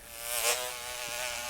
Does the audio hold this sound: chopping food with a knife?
no